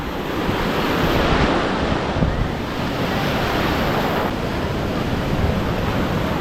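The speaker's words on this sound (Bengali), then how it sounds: "আর ঢেউটা দেখো কত" Sea waves break and surge continuously on Puri beach, a loud, close wash of surf with heavy wind buffeting the microphone and no clear voices.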